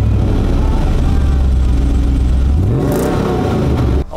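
A Toyota Sequoia's engine revs hard through a full MagnaFlow catback exhaust, holding a loud, close, deep drone before the pitch climbs as the engine winds up, then drops off at the end.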